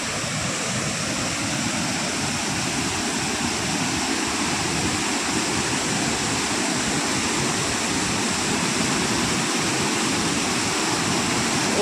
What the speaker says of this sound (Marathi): ओझरचा धबधबा